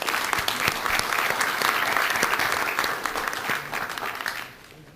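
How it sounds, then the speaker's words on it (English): Audience applause for candidates at a parish council forum, brisk dense clapping from a seated crowd that holds steady, then thins and fades out near the end. "How about a round of applause for our candidates?"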